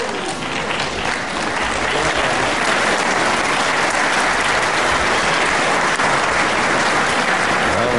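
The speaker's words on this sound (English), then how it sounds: "a good, nice applause from obviously a discerning crowd here at the Hexagon Reading" Crowd applauding at the end of a televised professional wrestling bout at the Hexagon in Reading, a loud, continuous wash of clapping that swells slightly and carries on steadily, with no one speaking over it.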